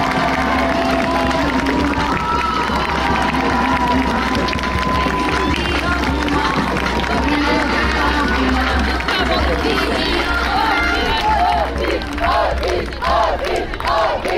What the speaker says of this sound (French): Je vais vous demander un tonnerre d'applaudissements pour l'équipe d'Hauteville